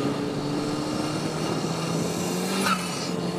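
A sports car engine drones steadily at close range on a wet road, with a constant hum and some broadband road and wind noise; no voices.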